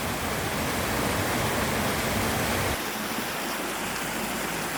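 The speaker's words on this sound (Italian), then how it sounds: "per vedere la continuazione di questo ruscello, questa acqua in quantità che scorre e scende pian piano" A small stream of water flowing downhill, a dense, steady rushing roar heard up close that drops slightly in low rumble toward the end.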